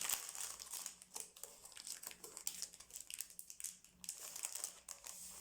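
A mailed paper envelope holding bookmarks is torn open and handled up close, giving quiet, continuous crinkling and rustling with small sharp crackles.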